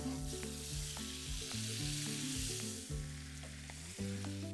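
Ginger and green chili sizzle in a pan of butter and ghee for a no-onion, no-garlic Jammu-style rajma, a close, steady frying hiss with occasional stirring, and a tonal melody running underneath.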